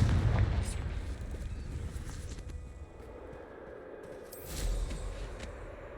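Confringo blasting spell in Hogwarts Legacy, a heavy booming explosion at the start that rumbles and decays over a few seconds, followed by a second, softer burst with crackling debris.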